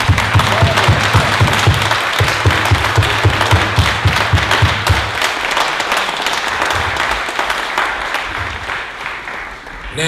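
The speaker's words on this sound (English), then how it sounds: "Please give Aminah Al-Deen a warm round of applause" A large audience at a talk on Malcolm X and Islam gives a loud, sustained round of applause for Aminah Al-Deen. Dense clapping fills the room, with a steady rhythmic pulse early on that softens as it continues.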